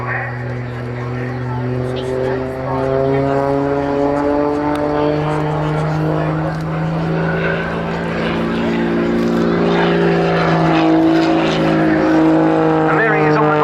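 A Muscle Pitts biplane performs an aerobatic display at an RAF airshow, its engine droning loudly with a steady, slowly rising pitch throughout while a commentator talks over it.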